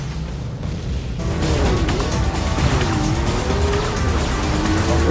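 Racing car engines rev in the video game Full Auto 2, with rising and falling engine pitch and tires squealing and skidding, loud and continuous after a quieter opening second.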